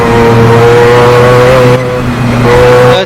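A Mazda 787B Group C race car in Assetto Corsa on the Nordschleife drones with a loud, sustained engine note, steady harmonic bands holding pitch before a brief dip and recovery near the end, with no talk over it.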